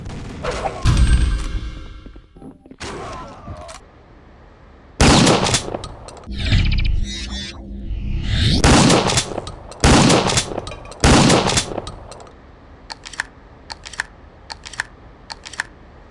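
Triple-barreled shotgun firing in a first-person shooter game such as Kingpin: Life of Crime, heard as several loud, sharp blasts with short gaps between them, each cut off abruptly, plus clicky mechanical handling noises between shots.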